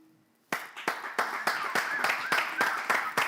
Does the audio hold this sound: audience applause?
yes